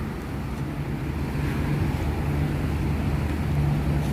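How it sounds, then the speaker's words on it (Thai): The Chao Phraya River runs fast and high at Pak Kret pier during flooding, giving a constant loud rushing roar of water with wind buffeting the microphone and a low mechanical hum beneath. "น้ำไหลแรงมากๆเลย"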